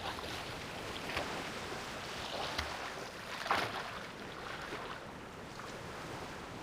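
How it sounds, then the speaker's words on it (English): Ocean waves wash in a continuous, gently swelling roar mixed with wind noise. Soft surges rise and fall, with no voices. "Every wave has its own unique shape, and every tide has its own distinct sound."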